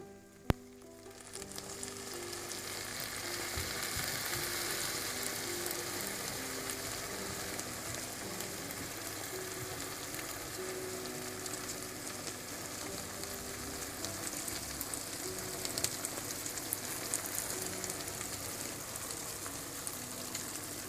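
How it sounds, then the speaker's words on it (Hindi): Sugar syrup poured over hot, golden-brown baked baklava fresh from the oven gives a steady, bright sizzle that hisses continuously at moderate volume from start to finish, with no voices. "अब इसके ऊपर मैं शीरा डाल लूंगी।"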